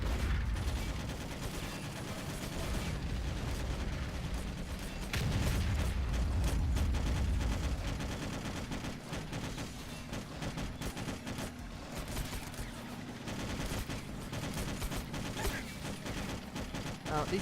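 Video game gunfire from Alien Swarm 2 with the Huaji mod, dense continuous bursts of rapid shots mixed with clanking mechanical effects, sustained and fairly loud throughout, with a voice talking over parts of it.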